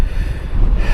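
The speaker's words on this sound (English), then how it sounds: "Whoa, that's a bit windy." Strong wind buffets the microphone on an exposed hillside walk near a reservoir, a steady low roar with gusting swells and no talk.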